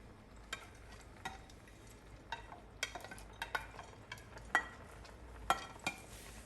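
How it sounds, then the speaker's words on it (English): Parboiled, deliberately firm rice being stirred in a pot for Nigerian fried rice, with a steady low sizzle and a series of sharp scraping clinks of spoon against pot spaced through the stir, close and fairly quiet, no talk. "So we pour in the rice and give it a quick stir."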